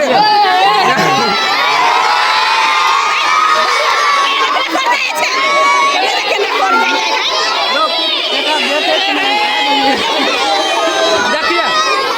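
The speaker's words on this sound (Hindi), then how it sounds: "साथी सब ये भीड़ देख रहा छे, यहाँ सब ये गोलगप्पा के घर के बाहर के अंगना के भीड़ है।" A large village crowd gathered in the courtyard outside a house, a dense steady hubbub of children shouting, cheering and overlapping chatter, loud and close throughout.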